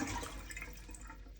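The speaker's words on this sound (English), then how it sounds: "I'm gonna flush all the water out." Toilet tank being flushed to drain it during a fill valve replacement, a quiet gurgling, trickling wash of water that fades over a second or so, no talking.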